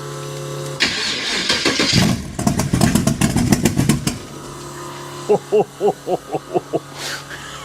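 A fully built T-bucket hot rod with no choke cranks and fires, its small engine blatting through a burst of loud rapid revs before dropping to a rough idle and a string of sharp, evenly spaced throttle blips, close up.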